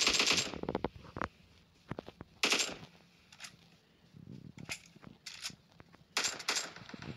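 Automatic gunfire in a video game rattles out in several separate short bursts, loud and close, spaced across the stretch with quieter gaps and faint background noise between them.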